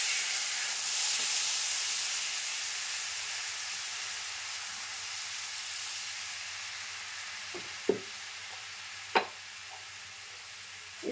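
Amla pickle mixture stirred in a pan, a soft steady sizzling hiss throughout with a few brief sharp scrapes or taps near the end.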